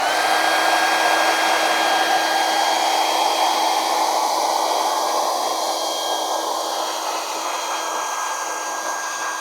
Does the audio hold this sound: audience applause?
no